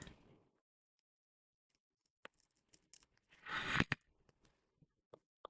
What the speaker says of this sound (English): Let's cut this straight first.